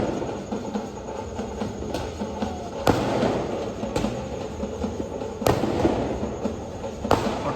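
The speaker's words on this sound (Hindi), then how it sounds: "ढोल नगाड़े के साथ आपका स्काई शॉट चालू।" Sky shot fireworks going off at night during a festival immersion procession with dhol drums: sharp cracking bursts every second or so over a steady crackling, rumbling din, moderately distant.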